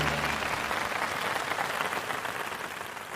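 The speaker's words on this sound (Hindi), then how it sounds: "जोरदार तालियों से स्वागत कीजिए डॉक्टर रामावतार शर्मा का" A studio audience applauds steadily to welcome a guest on a health talk show, a dense wash of many clapping hands that holds level and tapers slightly at the end, with no voices over it.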